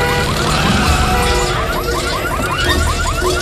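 A car going haywire under a spell in a Sabrina the Teenage Witch scene, with a loud wailing siren-like whoop sweeping repeatedly over a dense rumble and a crash.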